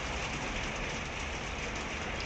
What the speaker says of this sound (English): I'm just going to sit a minute and appreciate the rain, the noise on the roof